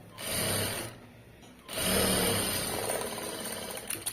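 A sewing machine stitches the side seam of a garment in two close, steady runs with a short pause between them, its motor whirring loudly and with no speech.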